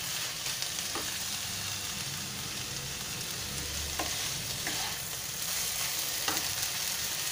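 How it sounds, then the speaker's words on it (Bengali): A spice paste is sautéed in a pan, giving a steady, close sizzle and frying hiss throughout, broken by a few soft stirring knocks, with no voices. "মশলাটা এদিকে কষানো হোক"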